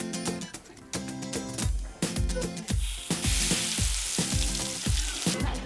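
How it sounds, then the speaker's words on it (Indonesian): Ground spice paste frying in a pan for mie nyemek, a close, continuous sizzle broken by regular scraping strokes of a spatula stirring the paste, with no talking. "Tumis dulu bumbu ulegnya."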